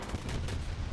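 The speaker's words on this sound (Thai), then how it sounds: "ระเบิด" A tank cannon shot rings out in War Thunder, a loud booming blast with a rolling tail that fills the whole moment, with no voice over it.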